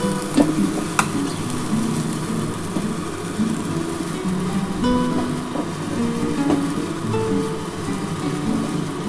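Chicken pieces frying in a pan on a gas stove, giving a continuous sizzle with stirring and a few sharp clinks of utensils, no voices.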